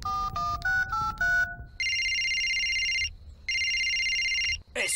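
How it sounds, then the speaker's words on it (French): A cartoon telephone rings in long, bright electronic bursts, two sustained trilling rings after a short rising run of beeping tones, loud and alone with no talking. "Est-ce que quelqu'un peut décrocher ce téléphone?"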